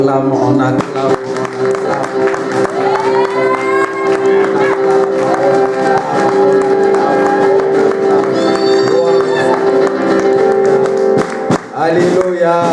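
A church congregation claps and cheers together, with steady crowd applause and shouts over a sustained musical tone that runs almost the whole time, and voices rising through the noise.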